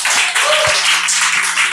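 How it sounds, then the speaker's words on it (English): An audience claps for a speaker at an International Day of Women and Girls in Science event, giving a loud, dense round of applause throughout, with faint voices mixed in. "Please, can we give her a round of applause?"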